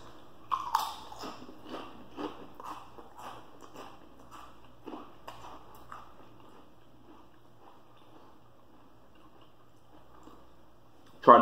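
Crunchy bites and chewing of Great Value cheddar cheese flavored potato chip crisps, a series of sharp close crackles early on that soften into quieter chewing, in an otherwise quiet room.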